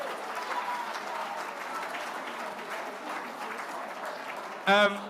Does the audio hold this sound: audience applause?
yes